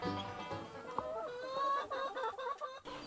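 Pastured chickens on a farm cluck and chatter continuously at close range, a busy overlapping flock with no talk.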